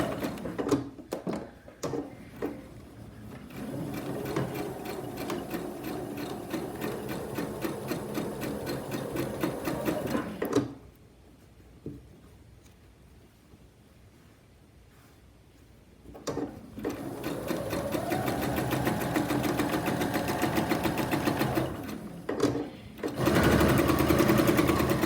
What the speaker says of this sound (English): So we do a little back stitch